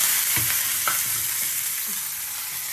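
Dried red chillies, mustard seeds and curry leaves frying in hot oil for a tempering, a steady close sizzle with a few brief crackles and spoon scrapes early on.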